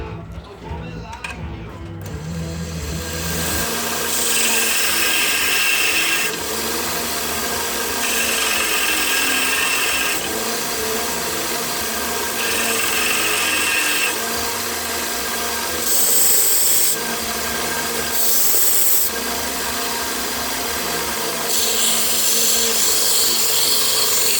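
Bandsaw cutting a piece for a black titanium build, a steady close grinding buzz that runs for over twenty seconds, swelling and easing as the cut proceeds in several long passes.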